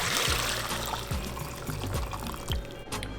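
Fat by-product from a cow-foot gelatin boiled for an hour is poured back into a cooking pot, giving a continuous close liquid pour and splash with a few low thuds throughout.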